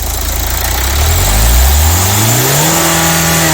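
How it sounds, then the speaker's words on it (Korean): A car engine with a faulty turbo revs up as the accelerator pedal is pressed, rising loudly from a low idle rumble into a climbing, sustained whine close by. "자, 엑셀 밟아봐."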